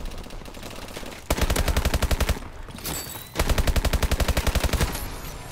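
Call of Duty: Advanced Warfare gunfire: two loud bursts of rapid automatic fire, each lasting about two seconds, separated by a brief pause, close and dominant with no talking.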